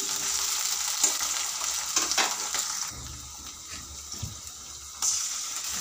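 Potatoes and onions fry in a pan with a soft, steady sizzle, broken by a few stirring scrapes and a brief stretch of running water.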